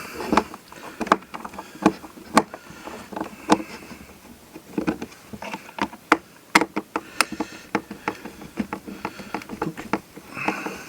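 Three small screws being backed out from underneath the motor housing of a welding machine, heard as a close, irregular run of sharp little clicks, ticks and knocks with brief pauses between turns.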